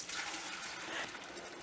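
Star San sanitizer poured into winemaking equipment, a steady soft gush of liquid running continuously, fairly quiet and close, with no talking.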